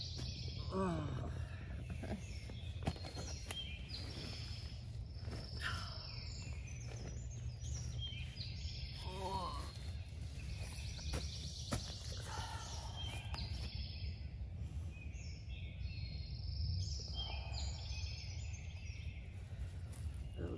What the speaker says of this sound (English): It's 5 a.m. Birds started coming alive.